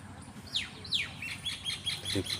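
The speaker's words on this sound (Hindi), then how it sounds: "परिंदों के चहचहाने की प्यारी आवाज़ सुने" Birds in a park in Kallar Wali, Pakistan, give several sharp, descending chirps and tweets at moderate distance over a soft outdoor background hum, with no voices.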